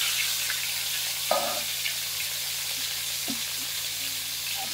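Cut potatoes fry in a pan with a steady, even sizzle, punctuated by a couple of brief scraping stirs and light clinks near the cookware; no voices.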